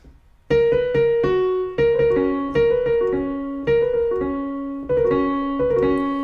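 Piano plays a short riff, a repeating pattern of clearly struck notes and chords, each ringing and decaying before the next, moderately loud and alone without speech.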